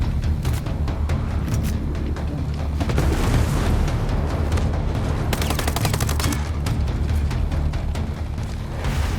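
Loud, dense combat in Tom Clancy's Ghost Recon Breakpoint: rapid gunfire crackles nonstop, mixed with heavy booming grenade blasts and no voices.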